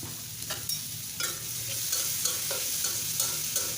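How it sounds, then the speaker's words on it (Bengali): Chopped onion and carrot frying in a pan, a continuous sizzle with rhythmic scraping stirs every half second or so, moderately loud and without talk. "দিয়ে পেঁয়াজটাকে ভালোভাবে ভেজে নেব"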